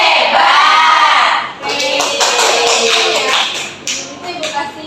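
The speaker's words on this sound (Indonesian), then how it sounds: "Sekarang kita kasih tepuk apresiasi ya." A classroom group claps in appreciation after a poster presentation; a voice opens, then a burst of scattered, lively applause from several people fills the room and tapers off near the end.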